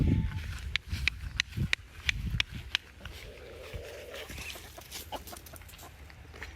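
Free-ranging chickens in a garden cluck in short bursts close by while pecking at caterpillars, bugs and turnips, with sharp peck clicks scattered between the calls.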